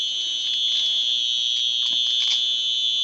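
A Simplex smoke alarm sounds continuously during a home test, a steady piercing high tone with a slight pulsing flutter, held for about three seconds with nothing else heard.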